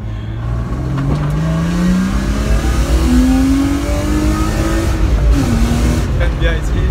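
A BMW E36 three-door saloon with a tuned engine revs hard while driving, its engine note climbing through the gears in loud rising sweeps heard from inside the car, with people talking over it.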